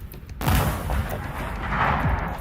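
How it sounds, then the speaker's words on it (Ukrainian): A single loud weapon shot booms suddenly during a frontline military operation near Pokrovsk, Ukraine, then a deep rolling rumble echoes and lingers, with no voices. "Увага, постріл!"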